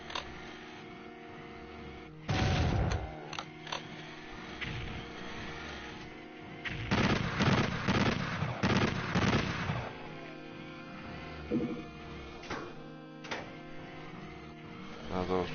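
Shotgun blasts in a video game come as scattered heavy bangs, a single early shot and then a cluster of several rapid booms, over a low, steady game background.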